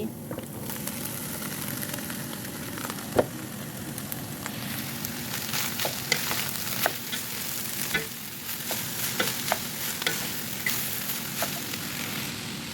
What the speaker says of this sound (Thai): ผัดเนื้อให้เหลืองแล้วปรุงรสใส่เครื่องปรุงใส่